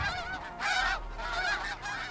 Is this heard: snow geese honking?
yes